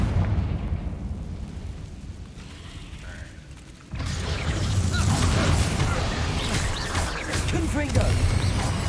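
Confringo blasting spell explosions in a Harry Potter style video game, a loud booming rumble that builds into a sustained blast with crackling debris, while a player talks over it.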